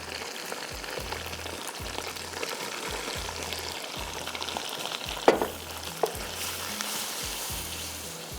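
A splash of water poured into a hot pan of frying spices with chili powder and black pepper sets off a strong, continuous sizzle with stirring scrapes and a couple of sharp clinks, close and loud with no talking.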